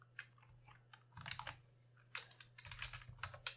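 Fingers typing on a computer keyboard in short irregular bursts of clicky keystrokes, close and fairly quiet over a low electrical hum.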